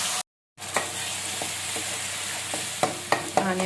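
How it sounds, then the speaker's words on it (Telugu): Onion paste, cloves, cinnamon and bay leaf frying in hot oil for a quick chicken fry, a steady close sizzle with a few sharp stirring scrapes and clinks, after a brief silent gap at the start. "అంతా వేసి బాగా బ్రౌన్ కలర్ వచ్చేటట్టు ఫ్రై చేసుకోవాలి."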